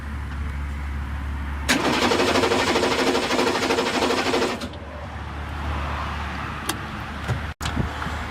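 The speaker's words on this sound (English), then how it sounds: "I'm just going to pull the power wires off this, crank it over a little bit" A HMMWV diesel engine cranks over with its injection pump wires unplugged. The starter whirs loudly for about three seconds without firing, then gives way to a quieter background hum with a few faint clicks.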